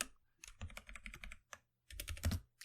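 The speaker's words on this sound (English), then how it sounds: "I was typing." Typing on a computer keyboard, quick bursts of clicking keys with a brief pause in the middle, close up with no talking.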